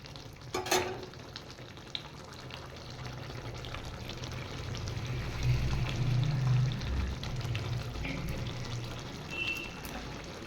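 Fish curry gravy bubbling in a pan, a steady soft simmer and sizzle that swells a little midway, with a brief clink near the start and no talk.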